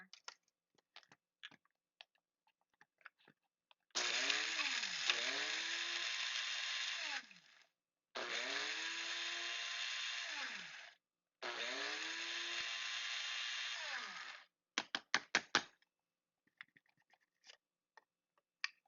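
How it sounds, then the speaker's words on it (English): A grinder pulverizes vanilla beans with salt in three loud whirring bursts of a few seconds each, the motor pitch dropping as each winds down, separated by short pauses with small clicks and handling noises around them. "I'm going to pulverize it with this because it'll help grind that vanilla a little bit finer"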